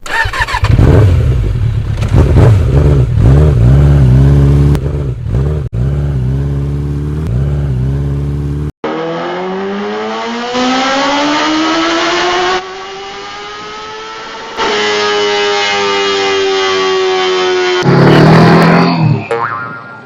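A Yamaha R15 motorcycle engine revs repeatedly, with pitch sweeping up and down through throttle blips and sustained high revs, loud and close, heard alone without talk.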